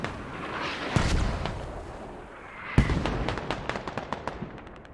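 Mortar fire in the military shooter Squad: two heavy distant booms followed by a rapid series of sharper cracks and thumps over a rumbling battlefield backdrop.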